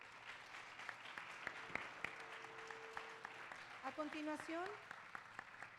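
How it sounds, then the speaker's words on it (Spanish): Faint, thin applause at a lecture hall welcoming a speaker to a keynote conference, distant clapping running under a voice that speaks briefly near the end. "fuerte aplauso aquí al maestro."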